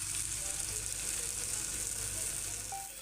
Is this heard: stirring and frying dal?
yes